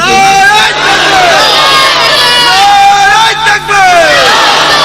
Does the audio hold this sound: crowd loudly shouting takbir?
yes